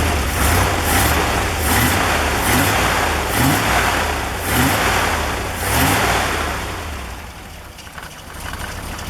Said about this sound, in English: pretty nice running old engine